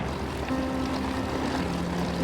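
A Canso flying boat's radial propeller engine runs steadily in a loud, even rumbling drone, its number 2 engine still faulty, with no voices over it.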